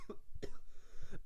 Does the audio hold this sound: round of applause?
no